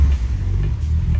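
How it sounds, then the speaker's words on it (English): Volkswagen GTI MK2 with a swapped MK3 VR6 engine driving on the road, a loud, steady low engine rumble heard from close by. "Who needs a radio when you have an engine like this?"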